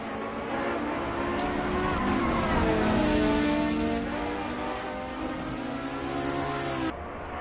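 Race car engine in the Assetto Corsa video game droning steadily with rising and falling harmonic pitch as it revs through gears, loud and continuous throughout, with a faint voice underneath.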